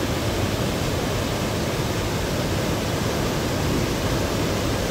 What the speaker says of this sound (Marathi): सांडव्यातून पडणारं पाणी आणि या बंधाऱ्यातून पडणारं पाणी